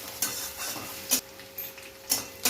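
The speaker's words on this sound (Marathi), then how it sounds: "याला थोडं आपण असं हलवून घेऊ." Onions and vegetables for chow mein being stirred in a frying pan, with a soft steady sizzle broken by a few sharp scrapes and clinks of the utensil against the pan, close and fairly quiet.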